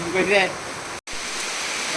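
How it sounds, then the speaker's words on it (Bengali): Heavy rain pours in a village, a loud dense wash of noise; a voice speaks briefly at the start and the sound cuts out for a moment midway. "এই দেখো বৃষ্টির কি অবস্থা"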